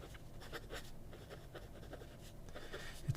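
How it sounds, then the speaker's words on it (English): A fountain pen with a smooth, slightly bouncy 14 karat nib writing fine-medium lines on paper, producing faint, close, continuous scratchy strokes over a few seconds, alone without talk. "it now writes, I would say fine medium, somewhere in between there. And it is smooth."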